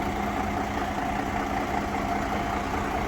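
A Volvo Ailsa double-decker bus engine idles steadily, a loud, close, continuous diesel rumble with an even throb and no talk over it.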